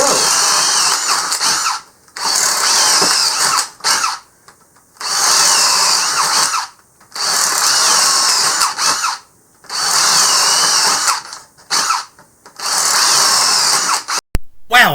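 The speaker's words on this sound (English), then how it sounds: "I'm going to show both drills side by side doing the 3/8 inch spade bit test starting just about now" Two cordless Hart drills, one brushed and one brushless, bore a 3/8 inch spade bit into 2x4 lumber in five loud, steady whining runs of about two seconds each, separated by short pauses.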